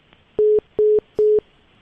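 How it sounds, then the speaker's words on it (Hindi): Three evenly spaced tones from a telephone as a number is redialed, each a steady beep of about a fifth of a second, loud and close, with short gaps and no voices. "अब यही नंबर रीडायल कर रहा हूँ मैं"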